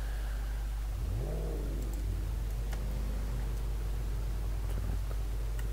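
Modded Volkswagen Touareg engine in the Spintires off-road driving game, a steady low engine drone throughout with a rising rev sweep as the vehicle pulls away, plus faint ticking sounds.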